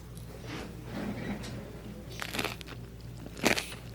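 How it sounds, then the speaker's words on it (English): Crunchy french fries being bitten and chewed close up, with a few crisp crunches rising out of a quiet room background, the loudest near the end. "these are really good crunchy french fries"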